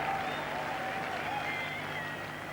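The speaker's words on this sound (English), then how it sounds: "And Botham getting a tremendous reception here." Cricket crowd at a 1985 England v Australia test match at Headingley applauding a batsman coming in, a dense, steady roar of clapping from a large distant crowd, continuous for the whole moment.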